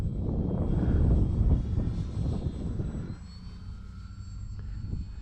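An E-flite Valiant 1.3m RC airplane flies past, its electric motor whine loud and close at first, then fading as it moves away.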